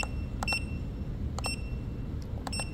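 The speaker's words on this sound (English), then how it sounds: "Actually, can I shut off the beep on this thing?" Short electronic beeps from a tester sound in a few quick clusters, two or three chirps each, over a steady low background hum, while checking a 1991 Ford Escort.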